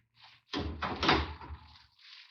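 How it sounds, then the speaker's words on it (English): A heavy great door in a medieval castle hall swings shut in a period radio drama, a muffled creak and rumble followed by a solid close, fairly quiet and alone. "Sir Lionel, would you close, please, the great door when you leave us?"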